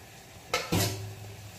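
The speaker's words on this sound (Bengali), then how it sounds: "আর কড়াইটাকে ঢাকা চাপা দিয়ে দিলাম।" A metal lid set down on a kadai of katla fish kalia cooking on full flame, giving two quick clanks in close succession followed by a short resonant ring, with no talk.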